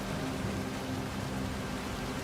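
Rain pours in the video game Soulmask, a dense, steady hiss that holds at an even level throughout with no voices over it.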